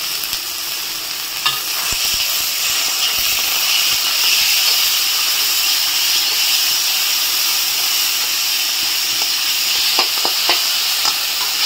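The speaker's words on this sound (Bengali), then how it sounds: "সবগুলো উপকরণ ভালো করে মিশিয়ে আমি ভেজে নেব মশলাটা।" Spice masala with cumin powder and chopped tomato frying in oil, a loud continuous close hiss and sizzle with occasional stirring scrapes and clicks, no voices.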